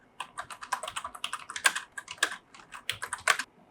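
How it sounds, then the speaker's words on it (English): Rapid clicking of computer keyboard keys in uneven bursts, close up, with brief pauses between flurries of keystrokes. "So now I finish the typing"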